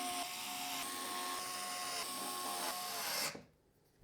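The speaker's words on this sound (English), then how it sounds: "we can secure the fans into place using the long radiator screws that came with the AIO" A powered screwdriver whirs steadily as long radiator screws are driven through white PC fans into an AIO liquid cooler radiator, a close continuous whine that cuts off abruptly near the end.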